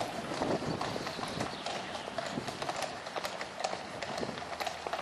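Young horses from a royal stable walk past with steady clip-clopping hooves, continuous and fairly close over a busy outdoor background murmur.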